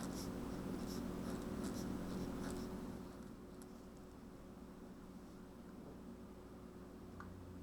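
Pen or pencil writing on scratch paper while solving an equation, a soft steady scratching over the first few seconds that then fades into quieter background hum.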